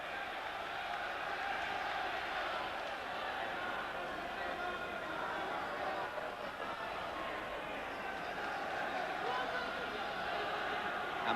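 A boxing crowd in a Belfast arena roars steadily throughout, a dense, continuous wall of cheering and chatter from a large audience that never drops away.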